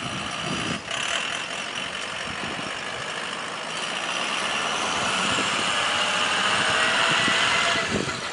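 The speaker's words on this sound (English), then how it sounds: "There's a trash truck, almost totally loaded." A nearly full trash truck idles nearby with a steady low engine rumble and broadband mechanical noise, holding constant for several seconds with a slight rise toward the end.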